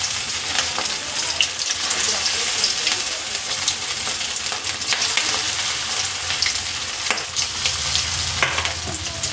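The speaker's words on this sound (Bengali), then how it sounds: "এবার অল্প অল্প করে আমার পকোড়াটাকে ভেজে নিতে হবে।" Chicken pakoras for chilli chicken deep-frying in hot oil, giving a loud, steady crackling sizzle with frequent bursts of spattering and occasional utensil scrapes, and no talking.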